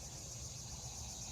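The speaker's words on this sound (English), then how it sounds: "You can hear the cicadas in the background." Steady, dense drone of cicadas in humid summer woods of the Missouri Ozarks, continuous and even, moderately faint with no voices.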